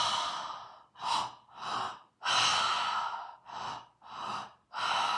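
Deep, rhythmic breathwork breaths, each loud inhale and exhale rushing close to the microphone in steady cycles, with no talk.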